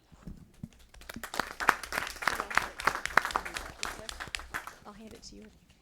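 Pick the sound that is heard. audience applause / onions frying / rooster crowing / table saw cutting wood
audience applause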